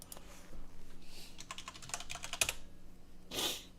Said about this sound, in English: I gotta get a new keyboard and a mouse. This is too loud.